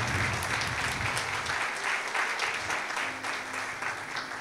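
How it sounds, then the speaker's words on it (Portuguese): A church congregation gives a loud round of applause for Jesus during a service, a dense, sustained clapping from many hands that fills the room with a slight swell and fade. "Dá uma salva de palmas para Jesus aí."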